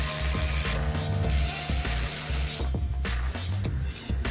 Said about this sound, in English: with my power ratchet just to get them snug.